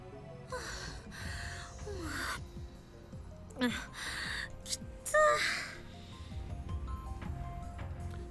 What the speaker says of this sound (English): Kurisu gasps for breath